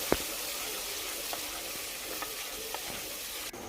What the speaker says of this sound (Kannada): ಇದನ್ನು ಎಣ್ಣೆ ಬಿಡೋವರೆಗೂ ಫ್ರೈ ಮಾಡಿ ಮಸಾಲೆ ಎಣ್ಣೆ ಬಿಡುತ್ತೆ ಸೊ ಅಲ್ಲಿವರೆಗೂ ಫ್ರೈ ಮಾಡೋಣ ಬನ್ನಿ